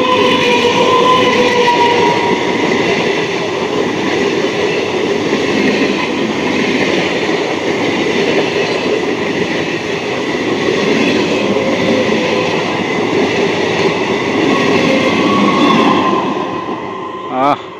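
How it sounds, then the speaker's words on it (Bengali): Two trains crossing at Balagarh station on the Howrah–Katwa line, a loud continuous rolling roar of wheels and carriages sustained for most of the stretch before fading away at the end. "দারুণ, দুইখানা ট্রেনের সুন্দর ক্রসিং হলো"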